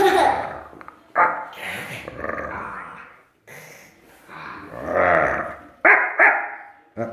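A person vocally imitates a dinosaur cry that comes out like a dog's bark, a string of loud, close, growly yelps and barks in uneven bursts with short pauses, ending in two sharp calls.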